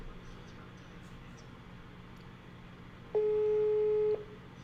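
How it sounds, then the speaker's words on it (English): A telephone busy signal sounds while someone calls a number: one steady electronic tone lasting about a second over faint background noise, with no talking. "Let's see if I can phone him up here now."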